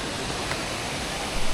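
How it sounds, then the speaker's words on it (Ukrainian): Ouzoud waterfall in Morocco pours as a dense, steady rushing roar, close and continuous, with no voices over it. "Ну, водоспад сам по собі гарний."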